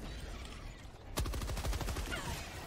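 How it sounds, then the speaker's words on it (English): A machine gun fires a rapid sustained burst in the video game Helldivers 2, starting abruptly after a moment of low rumbling battle ambience, loud and close. "So I switched to my machine gun"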